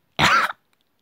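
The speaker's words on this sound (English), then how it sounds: "I cough every single time." A single short cough, close and fairly loud, followed by silence.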